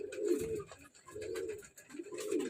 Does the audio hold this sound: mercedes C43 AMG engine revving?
no